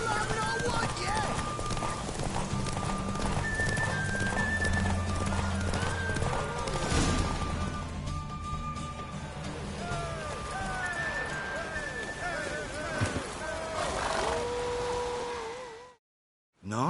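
Horse hooves clip-clop steadily throughout a scene in The Witcher 3 video game, with a horse neighing and whinnying at points over a dense game soundscape of music and ambient sound.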